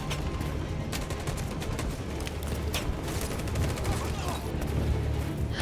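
Continuous video game gunfire rattles in dense rapid bursts, loud and sustained throughout with little pause.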